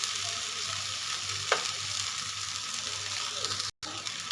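Poha thalipeeth fries in oil in a pan with a steady, close hiss and sizzle, a brief stirring scrape, and a short cut near the end.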